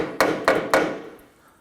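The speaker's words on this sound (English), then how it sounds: "I'm going to use our hammer just to tap that in." Three sharp hammer taps on a brake hose part of a Nissan Murano, evenly spaced and close by, each ringing briefly before fading into quiet.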